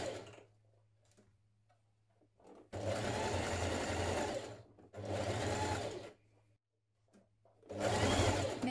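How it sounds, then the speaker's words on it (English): Sewing machine stitching neck and armhole facings onto the body of a spring sheath dress, running in three separate steady bursts of a few seconds each with quiet pauses between, close and fairly loud. "Now stitch around your neck and armhole facings to your body"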